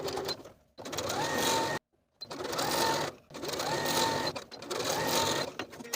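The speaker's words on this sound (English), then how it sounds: "I'm just going to be using a regular zigzag stitch here." A sewing machine runs a zigzag stitch attaching elastic to a leggings waistband, four steady buzzing runs of about a second and a half each, separated by short pauses, close and alone.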